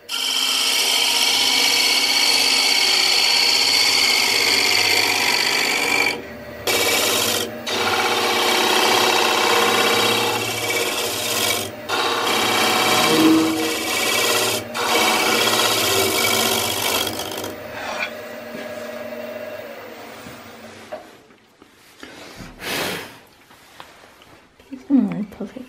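A gouge cuts a hollow wooden tealight holder spinning on a lathe, giving a steady loud scraping rasp for most of the stretch, broken by a few short pauses and ending in scattered bursts as the cut stops.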